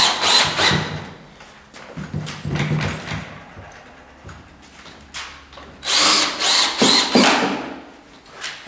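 A power drill drives zinc screws into the wall of a custom 8x14 chicken coop, in several loud whirring bursts that start, pause and start again, with wood creaking between runs.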